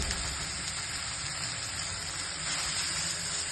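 Chopped onion dropped into hot ghee and oil for pav bhaji, giving a steady, close, hissing sizzle that holds evenly throughout with no voices.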